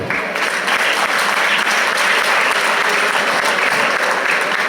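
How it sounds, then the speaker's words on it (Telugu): A crowd at a church wedding ceremony claps steadily throughout, dense and loud applause filling the room without letting up. "సరిపోలేదండి చప్పట్లు"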